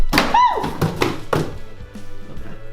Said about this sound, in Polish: rzucimy pierwszą paczuszką w kartony